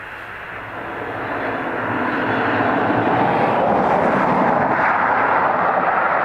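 Ryanair airliner at Dublin Airport, its jet roar swelling from a distant rumble into a loud, broad steady rush that holds for several seconds; no speech.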